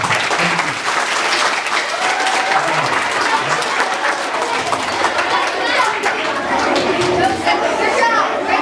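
Children at an elementary school assembly applaud loudly and steadily, with cheering and crowd chatter mixed into the dense clapping throughout.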